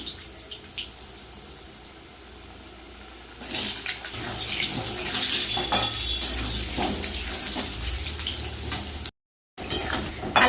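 Potatoes hit hot oil already seasoned with bay leaf, whole cardamom, cinnamon, nigella and cumin: a near, broad frying sizzle bursts in after a few quiet seconds and crackles on, briefly cutting out before returning.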